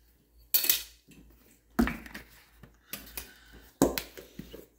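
A spoon clatters against a batter dish as potato fritter batter is mixed with a tablespoon of oil, giving sharp knocks roughly every second with soft scraping between them. No one speaks.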